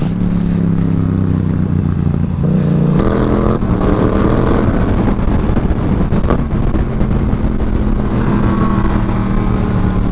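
A motorcycle engine runs steadily close by, a loud continuous drone with pitch that rises and shifts as it revs, holding strong throughout without any voices.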